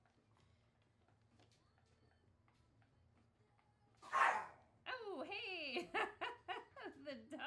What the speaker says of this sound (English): the dog is not happy.